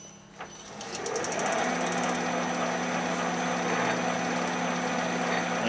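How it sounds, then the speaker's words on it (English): A big bit drilling metal in a home workshop while making a three-point linkage fork: the drill starts with a whine and then holds a loud, steady grinding rumble close by. "so I can put in the big drill bit now"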